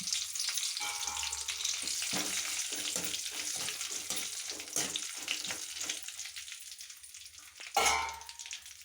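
Mustard seeds, cumin, dried red chillies and fenugreek fry in hot oil for a village-style bitter gourd chutney, crackling and spluttering in quick bursts, then a sharp loud sizzle near the end.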